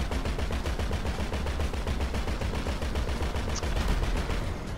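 Rapid automatic gunfire from the video game GTA V Online rattles on steadily and loudly in close, evenly spaced bursts, with no talking over it.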